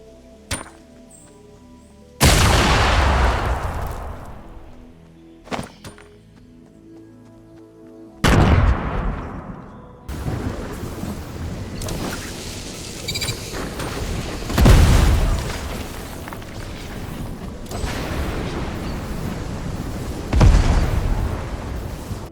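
Grenades explode one after another in Fortnite OG Season 7: several sharp, booming blasts spaced seconds apart, each trailing into a rumbling decay, with quieter thuds and clicks between them.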